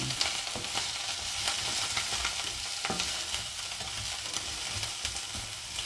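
Onion and garlic sautéing in a pan with ginger, a steady close sizzle with light stirring scrapes running throughout, no talking.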